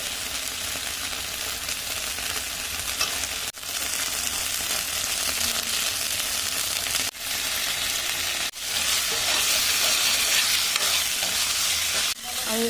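Tomatoes hit a frying paste of ginger, cumin and chilli in a pan, bringing a loud steady sizzle with continual stirring and scraping, broken by a few brief pauses.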